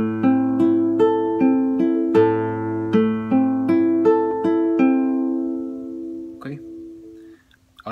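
Acoustic guitar plucks a fragment of a song string by string, a steady run of clear picked notes ringing over a low bass note, close up, with a faint shuffle and a final scrape as the last notes fade.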